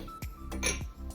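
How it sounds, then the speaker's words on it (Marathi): A metal pan stand lifted off a gas stove, giving several bright metallic clanks and ringing clinks in quick succession, close and fairly loud, with no talk. "स्टँड काढून घेते."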